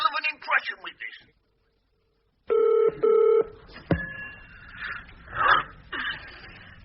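Telephone ringing, two loud electronic trills in a row, with people talking before and after.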